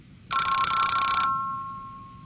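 A telephone rings in one loud, close electronic trill burst lasting about a second, followed by a fading tone, with no talking during the ring.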